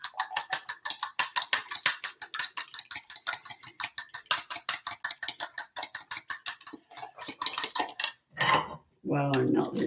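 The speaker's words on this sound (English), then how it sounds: "I'm just using a fork to beat the eggs." Four eggs beaten with a fork in a bowl: a rapid, steady run of close, bright clicking taps of metal against the dish, ending with a couple of louder scraping clatters.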